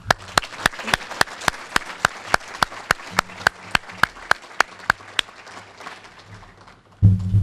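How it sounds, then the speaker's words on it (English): Sparse, evenly spaced claps ring out one at a time in a fairly quiet room as an audience applauds event sponsors at a Citizen of the Year ceremony, thinning out before a short rumble at the end. "Please refer to the banner behind me as we give a round of applause."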